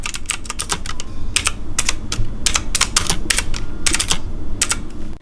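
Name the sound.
mechanical keyboard typing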